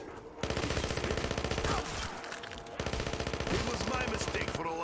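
Rapid automatic gunfire from a gun in modded Black Ops 3 Zombies, loud sustained bursts broken by a brief pause partway through.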